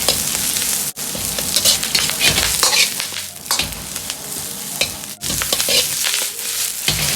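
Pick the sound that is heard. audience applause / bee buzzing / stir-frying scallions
stir-frying scallions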